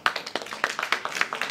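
Audience applause at a school Independence Day performance in Pińczów: a short burst of brisk, uneven hand claps, fairly close and clear, with no voices over it.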